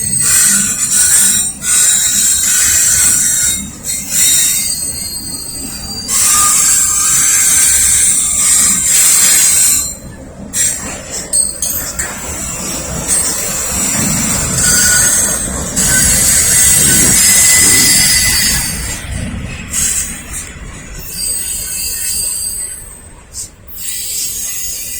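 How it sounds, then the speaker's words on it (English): A Norfolk Southern trash train rolls past close by, heading toward Roanoke, Virginia, with loud continuous rumbling, clattering wagons and shrill, sustained wheel squeals that rise and fall for the whole stretch. "Yep, that is the trash train."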